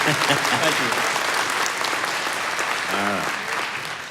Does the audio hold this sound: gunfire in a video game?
no